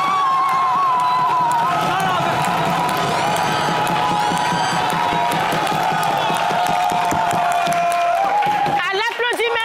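A crowd at a televised dance battle makes a sustained roar of cheering, clapping and shouting, loud and dense, with sharp whoops and whistles bursting out at the end.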